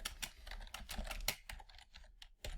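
Typing on a computer keyboard, a steady patter of quick irregular key clicks, close and fairly quiet, with no talking.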